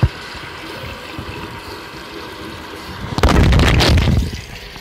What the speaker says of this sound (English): my phone just fell in water